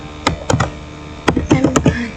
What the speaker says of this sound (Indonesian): Teman-teman bisa ketik mkdir